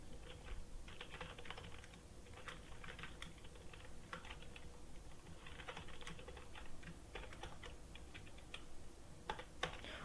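Computer keyboard being typed on while writing jQuery code, soft, rapid key clicks in uneven bursts and pauses over a quiet background, with no talk.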